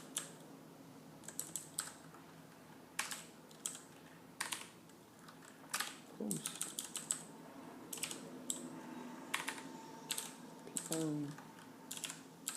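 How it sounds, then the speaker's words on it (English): Close typing on a computer keyboard while entering code, with bursts of rapid key clicks separated by short pauses and a few louder keystrokes, steady and alone. "I will type out a couple things"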